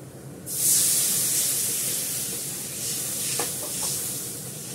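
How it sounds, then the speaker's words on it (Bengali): Fish dropped into a pan with spices and water lets out a sudden loud burst of hissing and sizzling that settles into a steady simmering hiss, with a few soft stirring knocks near the end. "পাউডার, জল দিয়ে মাছটা ছেড়ে দেবো।"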